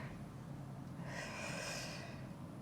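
A single slow, deep breath drawn in through the nose during a neck exercise, a soft airy rush that swells and fades over about a second against a quiet background.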